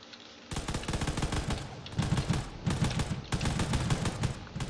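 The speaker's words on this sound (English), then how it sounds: "You can see the Vega battleships are just passing overhead, firing everything they have." Vega battleships passing overhead in a space combat game, firing all weapons in dense rapid volleys that surge in loud pulsing waves with brief dips between them.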